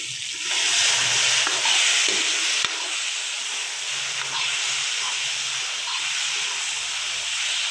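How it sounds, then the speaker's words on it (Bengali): Potatoes fry in hot oil in a pan, giving a steady, close sizzling hiss with faint stirring scrapes throughout and no talking. "আলুটা আমি ফ্রাই করে নিচ্ছি।"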